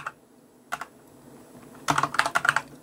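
Keystrokes on a computer keyboard entering CSS code, a short burst of clicks near the start and then a dense, rapid run of close, crisp taps toward the end, with no talking.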